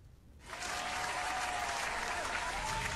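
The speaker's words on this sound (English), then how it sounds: "How about a nice round of applause" A studio audience breaks into steady, full applause after a poem recitation on a talk show. The clapping starts abruptly after a brief quiet moment and holds at an even, dense level throughout.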